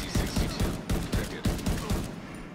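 Rapid bursts of video game gunfire from The Division 2, a loud string of shots in quick uneven volleys that keeps going for the whole short stretch.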